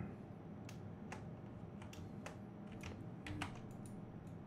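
Keystrokes on a computer keyboard during map editing in Giants Editor for Farming Simulator 2019, a scattered run of sharp, close clicks at an irregular rhythm over a steady low background hum, with no talking.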